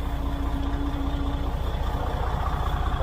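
A loud truck engine idles nearby in a steady, deep rumble with a rhythmic throb that holds unchanged throughout, with no one speaking.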